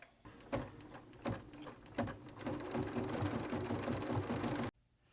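Embroidery machine stitching the body of a dimensional butterfly and bee design, opening with a few distinct clunks before settling into a rapid, steady mechanical chatter that stops abruptly near the end; fairly quiet and without voices.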